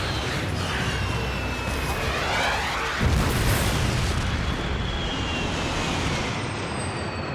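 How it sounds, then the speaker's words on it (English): Action-film battle audio of escort fighter jets from Air Force One attacking a plane: a dense, loud roar of explosions and jet noise with a heavy boom near the midpoint and a sustained blast afterward. "The jets from Air Force One escort. They just attacked our plane."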